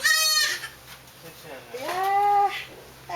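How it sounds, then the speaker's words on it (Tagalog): A goat bleats twice, a short wavering cry followed by a longer drawn-out one, close by and fairly loud. "Tuwan-tuwa si Abby, hinahalikan ng kambing."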